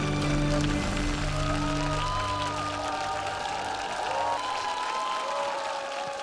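Applause and cheering from a large studio audience at the Voice of the Country 2016 superfinal as the winner is called onstage, dense and continuous with music tones ringing underneath.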